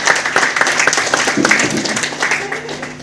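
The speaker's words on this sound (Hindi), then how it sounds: "मैं इनके लिए भी एक जोरदार ताली से स्वागत करती हूँ।" An audience of women claps at a DXN meeting in Khalilabad, a dense patter of hands that fades near the end while a voice speaks over it.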